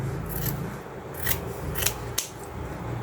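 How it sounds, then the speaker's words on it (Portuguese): Scissors snipping around the edge of felt pieces for a jointed felt doll's hands and feet, giving a few crisp, close cuts with soft rasping between them and no talk. "Agora eu venho com a tesoura."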